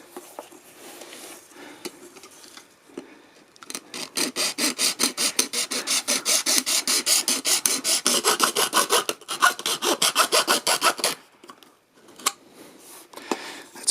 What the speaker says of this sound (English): we need to trim off the extra edge from this light bulb housing. And for that I'm going to use this handsaw